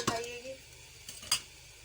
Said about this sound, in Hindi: अब मुझे भुनाई करनी है ये हलवे की।